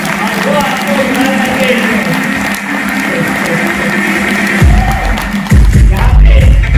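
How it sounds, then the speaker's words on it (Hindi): An audience at a recognition ceremony gives a mentor a round of applause: dense, sustained clapping from a crowd that swells louder toward the end, with a few voices mixed in. "उनके लिए जोरदार तालियां"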